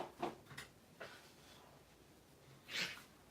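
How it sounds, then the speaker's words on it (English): Someone blowing their nose, a few short, faint nasal snorts and blows spread across the moment, ending in one stronger, longer honk, alone in a quiet room. "Pardon me while I blow my nose a little bit."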